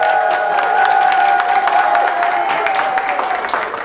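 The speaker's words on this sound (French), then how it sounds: "Pardon, applaudissez pour elle." An audience at a community event applauds and cheers for a guest: a steady wash of clapping with crowd voices and a sustained tonal cheer over it, loud and continuous before easing slightly.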